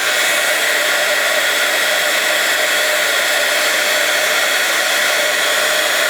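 Steady, loud broadband blowing roar of a heat gun drying watercolour paper, running continuously, with no pauses and no voices.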